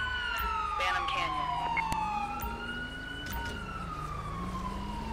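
An emergency siren in Grand Theft Auto V with a police-patrol roleplay mod wails in slow rising and falling sweeps, loud and continuous, joined by a second siren tone and traffic rumble.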